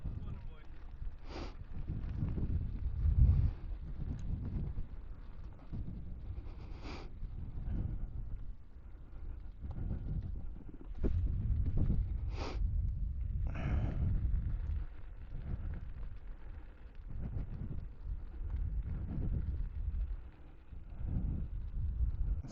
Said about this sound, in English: is still a bit windy today